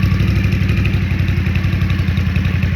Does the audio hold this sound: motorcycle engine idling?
yes